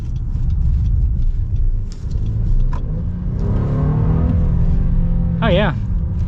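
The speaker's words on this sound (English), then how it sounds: "let's get our acceleration here with the Ridgeline, see how punchy this is" A 2023 Honda Ridgeline with a 9-speed automatic accelerates hard, its engine rumbling low and steady from inside the cabin while someone talks over it.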